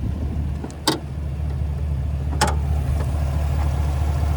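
A deep, steady idle of a 6.2-liter V8 in a Chevrolet Silverado Black Widow rumbles continuously, with two brief sharp clicks breaking through.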